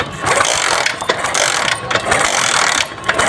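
A 70cc motorcycle with a shorting spark plug is kicked repeatedly, giving loud, close mechanical ratcheting clatter and bursts of rough engine noise with no talk.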